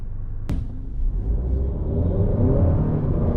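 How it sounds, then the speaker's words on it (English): A 2020 Honda Accord turbo midsize sedan pulls away from a stop with a steady, rising engine rumble and whir. A sharp click comes at the start, and the engine noise grows slightly louder through the pull. "Acceleration out of the hole, Honda Accord does have a teeny bit of turbo lag"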